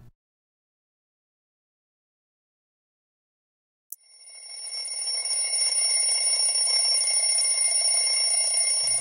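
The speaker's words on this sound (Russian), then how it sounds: "Будильник прозвонил полночь." An alarm clock bell suddenly starts ringing after a silence, a loud continuous metallic jangle that carries on steadily to the end.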